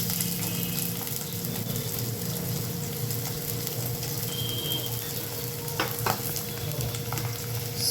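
Garlic, green chillies and onion frying in hot oil give a steady, close crackling sizzle with a few light clinks of a utensil against the pan, alone and evenly loud throughout.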